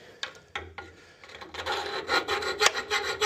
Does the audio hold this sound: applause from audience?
no